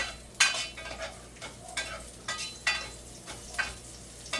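Ginger hits a hot pan for pork sinigang, giving a soft, close sizzle with intermittent scrapes and clinks of stirring, quiet and with no speech.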